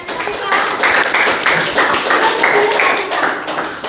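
Classroom clapping after a group presentation, a steady patter of hands from a group of students that fills the clip at close range, with voices talking over it.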